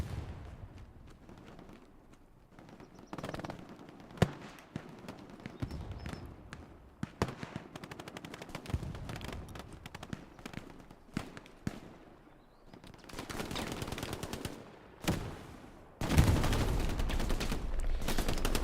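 Machine gun fire in the Hell Let Loose video game, with bursts and scattered single gunshots, some sharp and near, others more distant, building to a dense, sustained volley near the end.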